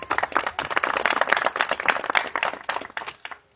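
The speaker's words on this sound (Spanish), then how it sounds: "Quien lo recibimos con un fuerte aplauso" A crowd at an outdoor public event for the start of drainage construction work gives dense, steady applause that fades out at the end.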